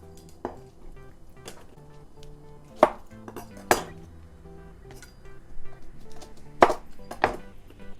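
A knife slices Brussels sprouts in half on a cutting board, giving a handful of sharp, separate chops and clinks spread irregularly, close and fairly quiet, with no talking.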